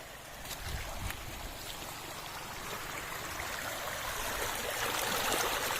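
Floodwater rushes through an overflowing river after heavy rain on a foggy day, a steady broadband roar that builds slightly louder toward the end, with no voices.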